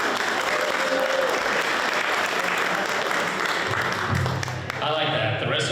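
A venue audience on a historic tavern trail gives loud, sustained applause that fills the whole stretch as a dense, unbroken roar of clapping, thinning only slightly near the end.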